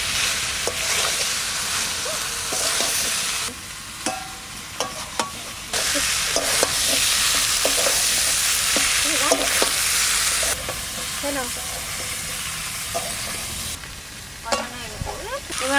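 Chicken breast pieces sizzle and fry in a pan with sour yogurt for barbecue-style chicken, with steady loud frying hiss broken by frequent scraping stirs of a spatula.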